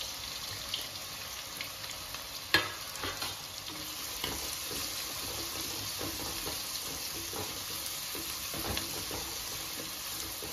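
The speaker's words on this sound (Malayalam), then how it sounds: "നമുക്ക് ഫുൾ ഫ്ലെയിമിൽ വെച്ച് തന്നെ ഫ്രൈ ചെയ്തിട്ടെടുക്കാം." Sliced onions fry on full flame for a methi chicken biryani, a steady, dense sizzle and crackle running throughout, with a few louder spatters and stirring knocks near the start.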